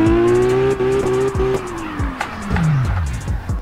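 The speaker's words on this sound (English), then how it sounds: "now you turn that engine back on" A drift car in the CarX racing game revs hard, its engine note falling as the revs drop, with tire squeal and skidding scrubbing through the slide at close range.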